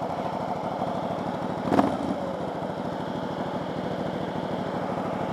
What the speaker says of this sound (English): Don't know why, but my bike's idling high.